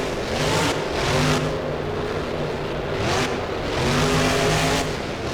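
Grave Digger monster truck, 35th anniversary edition, in the BeamNG video game at a Monster Jam freestyle run, its engine revving loud and continuous with a droning tone that swells and eases in waves.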